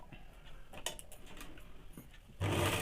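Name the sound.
sewing machine stitching underwear fabric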